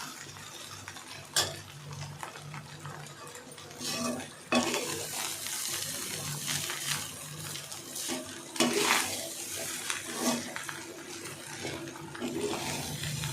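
Cooled cooked rice being stirred gently for egg rice, with soft intermittent scraping and rustling under a faint background hiss, close and quiet.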